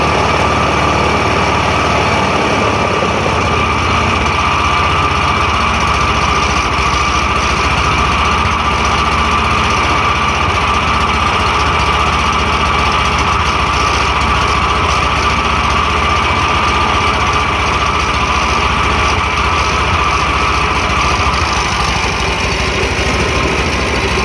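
A small farm machine engine idles fast and steady at high revs from a throttle set slightly too high, a constant buzzing drone with a rattly vibration that holds unchanged throughout.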